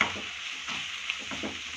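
Spices and salt stirred in a frying pan while cooking mushroom gravy, a close, steady sizzle with soft scraping strokes of the spoon running through the whole stretch, no voices.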